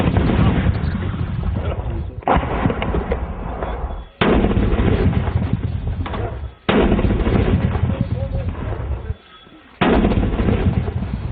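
Gunfire across the India-Pakistan border, dense and loud bursts of crackling shots that run continuously in long stretches, broken by brief sharp gaps.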